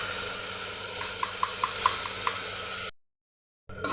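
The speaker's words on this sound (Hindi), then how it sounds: "इधर टमाटर भी अच्छे से भून रहे हैं मसालों के साथ में।" Chopped tomatoes fry with spices in a pan, giving a steady low sizzle with a few light taps of a spoon against the pan, then a sudden gap of silence before the sizzling returns.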